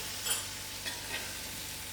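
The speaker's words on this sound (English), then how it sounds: "And I'll let it to simmer" Cauliflower and peas masala (gobi matar) simmering in a pan on the stove, giving a soft, steady sizzle with a few faint clinks, quiet and alone.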